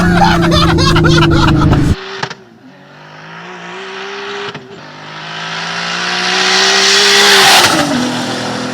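A rough-looking sleeper car fitted with flat-shift makes its first drive: a loud engine roars at high revs, cuts sharply at a shift, then climbs again in a long rising acceleration, close and dominant.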